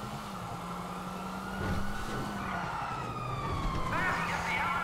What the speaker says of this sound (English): I hear sirens from that way.